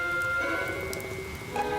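Steady cartoon rain pours down in an animated children's show, a continuous hiss of drops spread evenly across the scene with a faint background tone and no voices.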